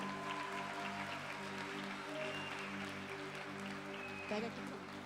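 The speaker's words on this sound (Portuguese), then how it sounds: "Pode aplaudir a vida dele." An audience at a church conference applauds, a soft, distant, steady patter of clapping that holds evenly throughout, with a faint sustained hum beneath and a brief louder bump near the end.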